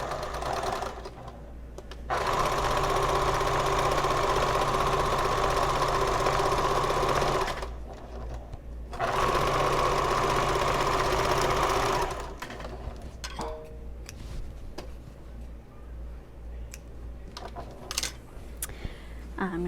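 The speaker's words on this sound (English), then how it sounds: "So the tops of both of these are together, and I will sew these together" A sewing machine stitches bag pieces together, top edges joined, running in two sustained loud bursts with a short pause between, then quieter handling noises once it stops.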